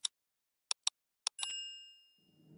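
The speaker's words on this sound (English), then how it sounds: "hit the bell so you know when we're dropping new content" Several quick clicking pops lead into a single bright notification bell ding that rings briefly and fades, followed by a faint low rumble, with no talk.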